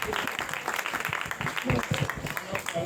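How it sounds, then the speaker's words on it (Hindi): A crowd at a political rally claps and cheers to welcome a party chairman, dense continuous applause at moderate distance with voices mixed through it. "हम सब खड़े होकर भरपूर तालियों उनका वेलकम करेंगे"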